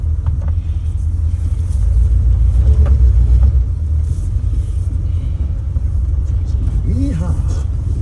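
A Ford Falcon Club Wagon van, driven again after sitting for 10 years, rumbles along steadily with a loud low engine and road drone, and a voice breaks in briefly near the end.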